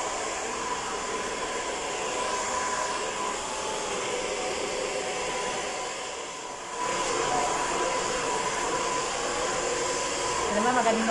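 A blow dryer runs continuously on a customer's hair in a salon, a steady close whoosh with a brief dip midway and faint talk underneath.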